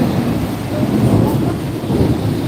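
Heavy rain pours in Mecca with a deep, continuous thunder rumble rolling underneath, steady and loud throughout without clear breaks.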